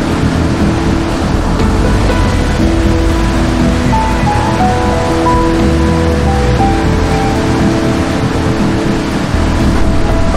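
A river flows below a set of transparent stairs. The rushing water makes a steady, loud, broadband roar that stays even throughout, with no voices.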